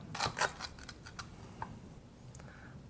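A knife cuts bread in half, giving a few quick, faint crunchy slices and scrapes close up at the start, followed by small soft clicks, with no talking.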